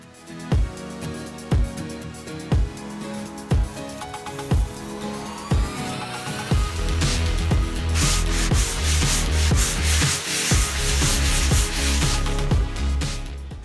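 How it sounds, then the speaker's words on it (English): Rhythmic rubbing strokes of sanding on a painted wooden table repeat about once a second, then grow denser and rougher with a steady gritty hiss. "after a bit of sanding"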